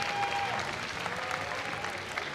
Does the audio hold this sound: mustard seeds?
no